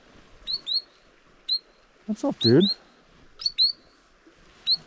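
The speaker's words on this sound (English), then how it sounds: "A cool little bird." Small shorebird nesting beside a mountain creek gives short, high chirps in scattered pairs and singles, fairly close and clear, while someone speaks briefly midway through.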